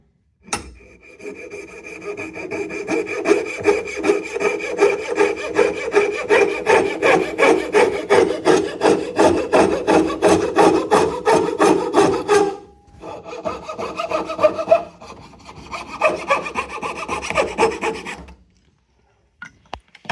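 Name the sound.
rough cutting wood with a hand saw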